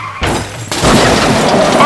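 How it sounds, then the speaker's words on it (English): Diecast toy race cars crash into each other in the bottleneck of a gravity racing track, a sudden loud clatter followed by continuous rattling and scraping of small metal cars, with an announcer's excited voice over it. "A crash in the bottleneck!"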